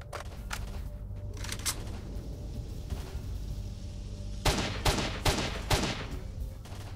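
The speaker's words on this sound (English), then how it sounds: "there's someone shooting at me" Gunfire in S.T.A.L.K.E.R. Shadow of Chernobyl: a few faint distant shots early on, then a quick run of four loud, sharp cracks near the end over a steady game background hum.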